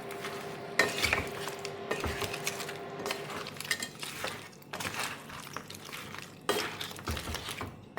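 Crab coated in masala is stirred in a pan with bursts of scraping and clattering shells against metal over a faint sizzle, close and without voices.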